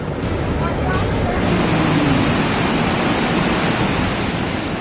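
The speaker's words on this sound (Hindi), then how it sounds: "पहाड़ों से निचले इलाकों में उफनती नदियों की तरह उतरता पानी कहर बरपाने को बेताब नजर आ रहा है" Floodwater rushing down from the mountains after a cloudburst in Himachal, a loud, steady broadband roar of churning water that fills the whole stretch without pause.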